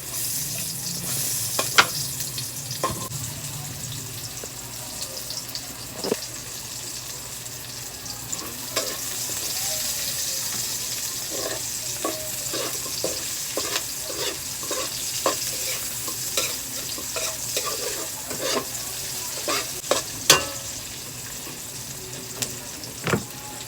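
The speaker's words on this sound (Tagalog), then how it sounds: "So yun nga guys, magigisa na tayo." Onions sauté in a frying pan as a steady hiss of hot oil, broken by frequent spatula scrapes and taps, close and moderately loud with no talking.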